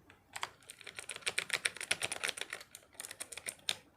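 Rapid keystrokes on an RP2040-based 60% mechanical keyboard, a fast irregular run of crisp clicks close to the mic, with brief pauses between bursts and no voice.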